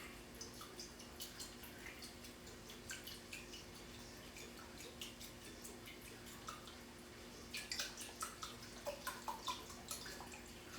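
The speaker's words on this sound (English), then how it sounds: "we're going to add 1 cup of red wine vinegar" Red wine vinegar poured into water for a pickling brine, a quiet series of drips and small splashes that turns into a quicker run of close droplets near the end.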